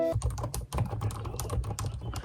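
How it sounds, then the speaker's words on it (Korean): Steady, fast typing on a Groovestone GV10 mechanical keyboard with orange accents, a close, dense run of crisp, scratchy key clacks with no pauses or voices. "키보드가 약간 서걱서걱한 소리 나는 키보드가 너무 좋더라고요"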